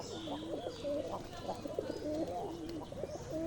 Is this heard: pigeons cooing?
yes